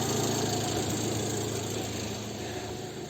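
A Fiat Albea 1.2 16V petrol car engine idling at steady revs after thermostat work, a constant close mechanical hum and rattle that holds unchanged throughout.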